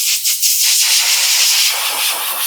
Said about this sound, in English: I decided to try some compressed air.